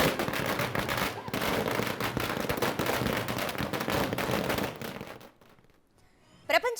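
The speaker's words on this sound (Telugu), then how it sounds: "కొందరు టపాసులు కాలుస్తూ సంబరాలు చేసుకుంటున్నారు" Firecrackers burst outside a cinema during fan celebrations for a Prabhas film, a dense rapid crackling string of bangs for several seconds that stops abruptly, followed by quiet and a final sharp pop.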